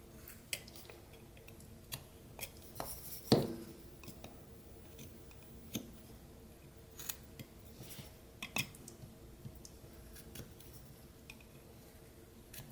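A knife carves back the wood around a whittled smiling mouth, giving quiet scattered scrapes and small ticks, with one sharper louder cut partway through, in a close and otherwise quiet setting.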